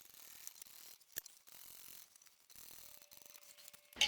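A sewing machine backstitches the seam of a tote bag, giving quiet, intermittent mechanical clicking and ratcheting bursts at close range, with a sharper knock at the end and no talk.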